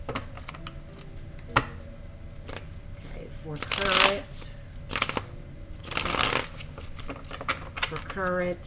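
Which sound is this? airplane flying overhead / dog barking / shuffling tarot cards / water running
shuffling tarot cards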